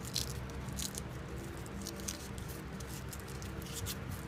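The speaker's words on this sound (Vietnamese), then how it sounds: "các bạn cứ xoắn cái giấy này lại như thế này" Paper twisted into rope by hand makes soft, quiet crinkling and scrunching sounds in irregular bursts, close and faint with no voices.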